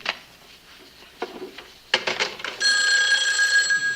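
A telephone handset being dialed directly: a run of close clicks and clacks, then a loud steady ringing tone that carries on to the end, with no talking.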